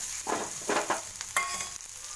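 Bitter gourd frying on a pan with turmeric and salt, soft sizzling broken by a few short scraping stirs, close and fairly quiet, without speech.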